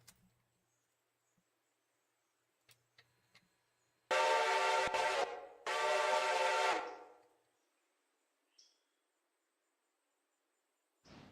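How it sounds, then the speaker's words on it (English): A freight train leaving the yard in a train game blows two long, loud horn blasts back to back, set apart by quiet stretches with scattered faint clicks and thumps. "I want to watch my train leave the yard"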